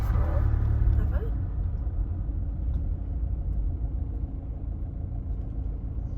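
A car drives steadily up a road, its engine and tyre rumble forming a continuous, moderately loud drone that stays even throughout.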